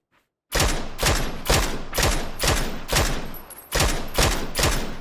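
Rapid bursts of gunfire in a PUBG match, roughly ten evenly spaced loud shots after a brief silence, each sharp and punchy with no talking.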